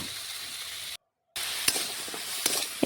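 Spiced vegetables for a Bengali shukto with drumstick stalks, turmeric and salt being stirred in a frying pan: a steady close sizzle with a brief gap and a few soft scraping knocks.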